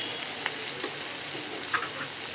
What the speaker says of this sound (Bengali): এখানে পেঁয়াজ আর চিংড়ি মাছ দিয়ে দিয়েছি। এগুলো লাল লাল করে ভাজি করে নেব।